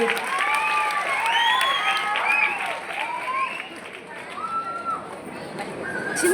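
An audience breaks into sustained applause mixed with cheering and whistles to welcome student dancers to the stage, a dense crowd sound that stays loud throughout.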